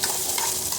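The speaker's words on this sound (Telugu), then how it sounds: "తర్వాత 4 వెల్లుల్లి వేసి ఫ్రై చేశాను" Four garlic cloves fry in a pan for ginger chutney, giving a close, continuous sizzle with the scrape of stirring and no voices.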